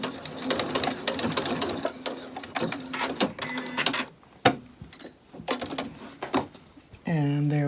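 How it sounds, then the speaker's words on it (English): A sewing machine stitches a cord keeper from fabric scraps with white thread, running in fast, loud mechanical bursts, then pausing and reversing to back stitch while someone talks over and between the runs. "Stop, and we're going to back stitch."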